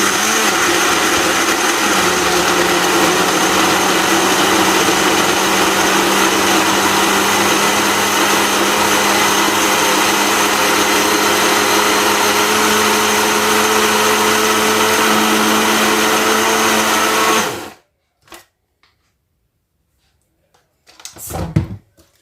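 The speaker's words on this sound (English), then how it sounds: "And now we're going to blend this together." A blender whirs loudly and steadily for about seventeen seconds as it blends a healthy milk smoothie, then cuts off abruptly, followed by a couple of brief clatters.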